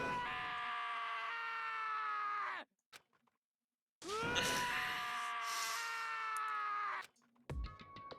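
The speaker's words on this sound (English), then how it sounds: "As Taka's sad screams invaded our skulls" A character in the Danganronpa video game screams in two long, loud, sorrowful wails with a strained, groaning edge. The wails are separated by a near-silent gap, and short clicks and bursts of noise follow.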